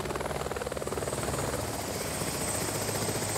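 A helicopter ferrying clients to a private beach club on Pampelonne beach thrums with a steady rotor pulse and engine whine, loud and sustained as it hovers nearby.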